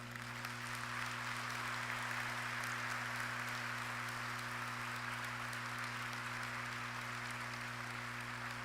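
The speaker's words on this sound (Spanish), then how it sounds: "Así que vamos a dar un fuerte aplauso a la Virgen María." A crowd at a religious gathering gives long, even applause, a continuous wash of clapping over a low, steady electrical hum.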